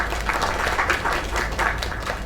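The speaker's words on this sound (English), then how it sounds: "Another round of applause." Audience applause in a video game, a brief burst of crowd clapping, dense and steady for a couple of seconds at moderate loudness.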